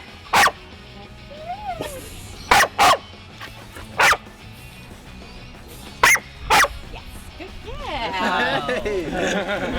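A trained film dog gives several short, loud barks in spaced bursts on a behind-the-scenes set, with a brief whimper and people talking quietly between the barks.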